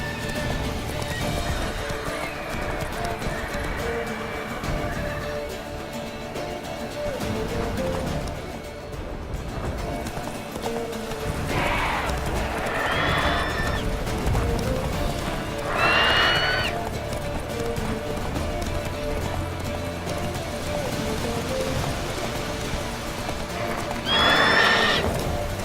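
Roach the horse from The Witcher 3 gallops with steady hoofbeats under game music and ambience, breaking into several loud whinnies and neighs spaced through the run.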